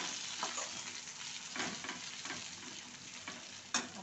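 Coriander leaves drop into hot tempering oil with garlic-coconut paste in a village-style Maharashtrian curry, giving a steady close sizzle and frying hiss with a few soft stirring scrapes and a sharp clink near the end.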